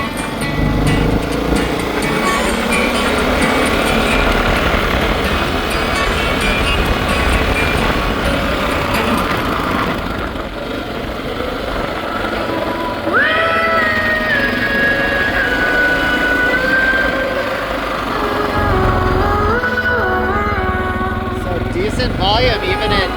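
A motorcycle rides at speed while a handlebar-mounted 800W KSPEAKER Bluetooth speaker plays, steady loud engine and wind roar with shifting engine pitch and music blended underneath, continuous throughout.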